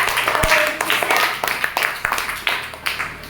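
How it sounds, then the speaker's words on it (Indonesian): Classroom applause for a pupil named Keisha, a burst of clapping hands from a group of students, uneven and close, with voices speaking over it. "Kita beri tepuk tangan untuk Keisha."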